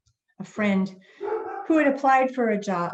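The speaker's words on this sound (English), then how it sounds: "I am so sorry that my dog is barking." A pet dog barks repeatedly in a home during an online seminar talk, the sharp yaps mixed in under a woman's steady speech.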